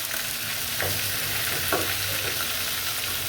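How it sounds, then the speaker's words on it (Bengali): Chicken pieces frying lightly in oil for a roast, giving a steady, even sizzle with a couple of brief stirring scrapes, close and moderately quiet, with no voices. "আমি এরকম হালকা ভাজা দিব।"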